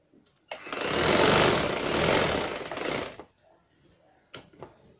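An electric sewing machine runs a fast, loud burst of stitching over elastic on a trouser waistband for about two and a half seconds, then stops, followed by a few faint clicks and handling sounds.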